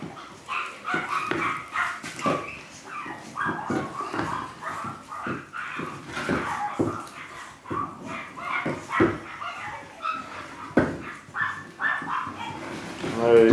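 Excited puppies whimpering, yipping and barking as they're given bones, with frequent overlapping high whines and short barks close by, while people talk over them.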